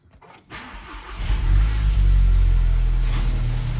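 A Volkswagen/Audi MQB-platform car cranks and fires up in a garage, a short starter whir followed by the engine catching and settling into a steady, loud close-up idle rumble with no talking.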